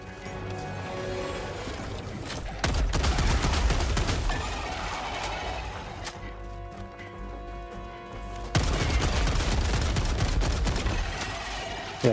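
Shotgun blasts and chaotic combat in Helldivers 2, a dense, loud barrage of repeated booms that eases briefly midway before another heavy burst of fire resumes, with no clear speech.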